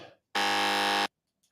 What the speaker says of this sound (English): A quick buzzer.